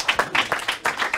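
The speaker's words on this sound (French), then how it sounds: "Je pense que ça s'applaudit quand même." A brief burst of audience applause at a company talk, a quick run of claps arriving in short uneven pulses for just over a second.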